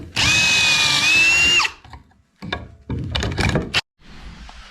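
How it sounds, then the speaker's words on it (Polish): Power drill boring pocket holes in old pallet wood for a sales table, one long steady whining run, then several shorter bursts with pauses between them, loud and close. "I tak oto wyglądają powiercone już otwory."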